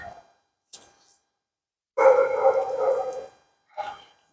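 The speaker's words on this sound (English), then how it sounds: "You can hear the dogs in the background." Dogs bark in the background near a workshop where a 1984 car's hood hinge bushings are being worked on: a few short barks, then a longer, louder burst of barking and a final bark, with quiet gaps between.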